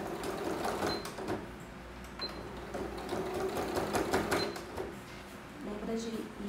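A sewing machine stitches thick, doubled fabric for a children's pouch in quick, uneven bursts of rapid needle clatter, close and clear, with pauses and small clicks between runs.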